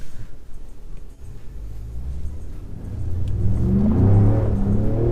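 A 2018 Ford Raptor pickup pulling away under acceleration, its engine rumble swelling steadily from a low drone into a loud, full roar over a few seconds, heard from close by with no talking.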